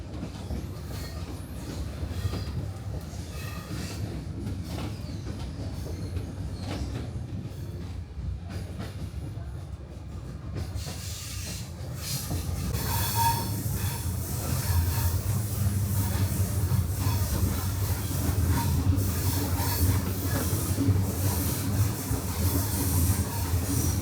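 EuroCity 159 train running from Graz to Zagreb, heard from inside the carriage: a steady low rumble of wheels and coach noise throughout, growing louder and rougher halfway through with faint squeals and rattles.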